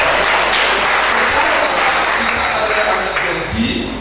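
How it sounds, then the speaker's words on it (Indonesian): A worship congregation at a campus gathering in Majalengka gives a round of applause to God, loud dense clapping throughout that eases slightly toward the end, with voices mixed in. "Kau beri tepuk tangan untuk Tuhan"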